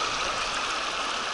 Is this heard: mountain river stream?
yes